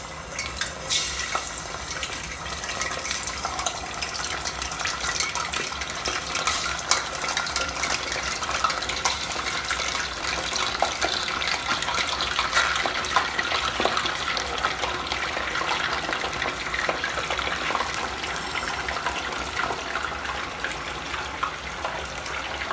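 Chicken pieces fry in hot oil in a karahi pan with a loud, continuous bubbling sizzle and a scattering of sharp crackles from start to finish.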